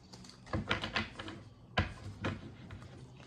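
Close, crisp papery clicks and flutters in irregular bursts as a new, stiff deck of oracle cards is shuffled by hand, with no voices.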